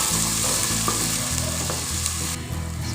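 Ginger and garlic fry with onions in a pan, sizzling steadily and loudly close by while being stirred and scraped in an uneven rhythm; no one speaks.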